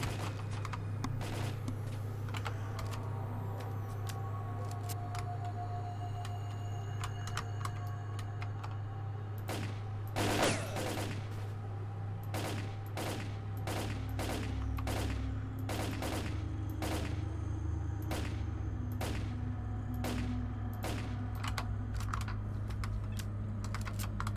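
Gunfire from the video game STALKER Call of Pripyat, sharp shots cracking in scattered single bursts and quick clusters over a steady low hum, loud and close with no talking.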